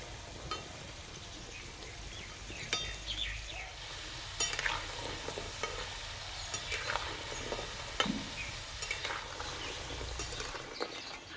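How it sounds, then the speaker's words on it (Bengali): Batter fritters of rice and lentils (rosh bora) frying several at a time in hot oil over low heat, a faint steady sizzle with occasional soft clicks and taps, no talking. "একসঙ্গে অনেকগুলোই বড়া ভাজা হবে"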